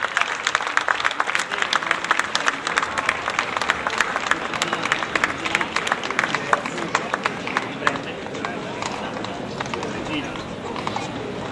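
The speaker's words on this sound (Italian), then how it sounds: "L'applauso della città di Tolentino a re Gioacchino Murat e alla regina Carolina" A crowd of the city of Tolentino applauds during a historical parade of costumed groups with cavalry, a dense patter of clapping mixed with hoof-like clatter while a voice talks over it.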